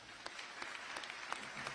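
Brief, faint applause from a distant church congregation at an Easter service, scattered claps blending into a soft patter.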